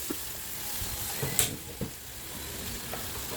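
Onion and garlic sauté in a pan for a Filipino coconut-milk dish with jackfruit, giving a soft steady sizzle with a couple of light stirring knocks, close and fairly quiet, with no talking.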